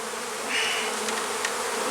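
Honey bees at an open hive drone in a steady, dense buzz close by, unbroken and with no voices.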